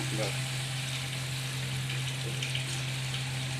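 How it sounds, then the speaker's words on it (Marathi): Sweet Saraswat-style mulake fritters fry in hot ghee, giving a steady, close hiss and sizzle over a constant low hum. "आता मी तळायला घेते हे असं भजांसारखं आपण हे तळतोय आता"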